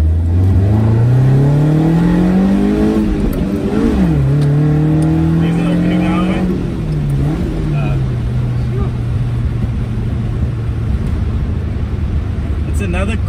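A Toyota Corolla KE70 engine revs loudly, its pitch climbing then settling into a steady drone, with a voice talking faintly under the noise.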